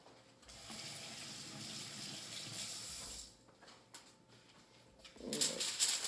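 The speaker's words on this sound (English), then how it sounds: "I'll wash the bottles off, wipe them down really good." Tap water runs steadily into a sink while bottles are washed, a continuous splashing wash that cuts off partway, then a brief louder gush near the end; no talking.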